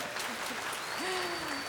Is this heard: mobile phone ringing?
no